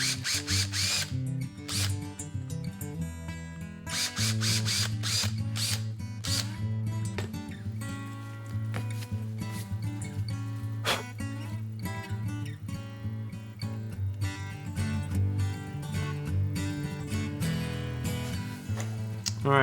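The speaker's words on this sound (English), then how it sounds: "what I'm going to do is barrel trim that, smooth it out" An acrylic pen blank is barrel-trimmed with a trimmer, giving a steady, loud, continuous motorized whine with a droning hum and rough cutting noise throughout, with no talking.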